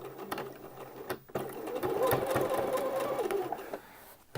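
A sewing machine stitches along the seam of a pair of Thai wrap trousers, running in a steady close whir for about two and a half seconds after a few brief starts, with no talking.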